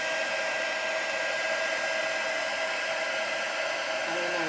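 A heat tool blasts a steady, close, loud whooshing hum while heat-setting embossing powder on a faux batik background, with no talk.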